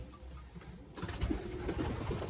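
Racing pigeons coo softly in a low, throaty burble inside a loft, several birds close by, with faint shuffling in the background.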